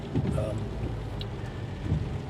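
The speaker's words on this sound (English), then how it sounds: "Pouring rain." Steady heavy rain drums on a car nearby, a continuous dense patter with a faint voice underneath.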